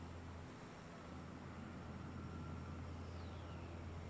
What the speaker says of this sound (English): I'm hearing some howling, like jet howling